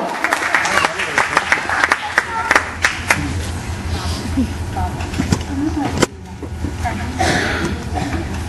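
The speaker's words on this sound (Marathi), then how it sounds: "प्रेक्षकांची उपस्थिती तेव्हाच कळते जेव्हा टाळ्यांचा आवाज सभागृहामध्ये गुंजतो" An auditorium audience claps at a stage event, a steady wash of applause with sharp individual claps over it, lasting throughout and fading briefly near the end before swelling again.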